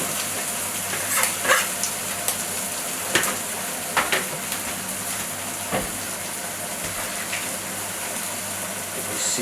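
Bacon and Japanese green peppers frying in a hot pan, giving a steady broadband sizzle throughout with scattered sharp pops and crackles, close by, with no talking.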